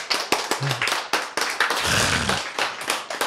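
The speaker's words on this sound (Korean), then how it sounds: "박수" Church audience clapping during a Korean sermon, a quick burst of scattered hand claps that runs about three seconds, close and fairly loud, with a brief voice and a low hum partway through.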